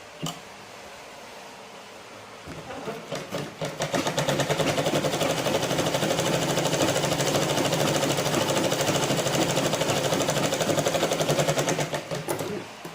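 A sewing machine stitches a forex blouse in a rapid, steady mechanical chatter that starts softly, builds to a loud continuous run close by, then stops near the end.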